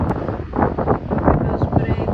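Strong wind buffets the microphone on a windy day near a church bell tower under repair, a loud continuous rumbling roar with gusty surges.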